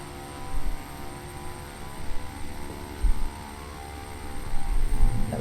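An EMB/CBA-123 airliner in a flight simulator game glides low over the runway before touchdown, its engine drone a steady hum with slight swells and a brief rise near the end.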